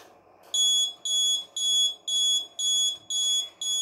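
An Arduino digital alarm clock with a DS3231 real-time clock beeps in a steady repeating pattern, seven sharp high-pitched bursts evenly spaced after a brief quiet start.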